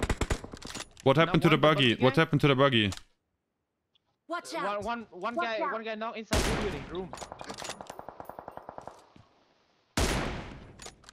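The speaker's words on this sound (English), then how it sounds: "I'm shooting a Koenigsegg tire." Gunfire in PUBG Mobile aimed at a Koenigsegg car's tire comes as rapid bursts of shots, with loud sharp reports near the middle and end, mixed with someone speaking over game audio.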